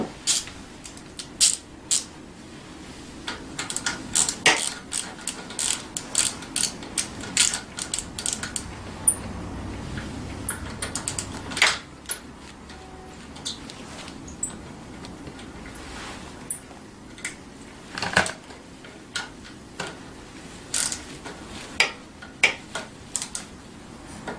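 A ratchet fitted with an 8mm socket works on a Tao Tao 90 dirt bike during assembly, making scattered bursts of sharp clicking and metallic ticks between quieter pauses.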